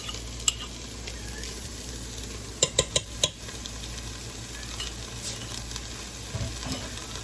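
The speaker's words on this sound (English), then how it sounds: "Now that the onions have been sweating for a while" Onions sweat in a pot with a soft, steady low sizzle, interrupted by a few sharp clinks of a utensil against the pot and a single earlier tap.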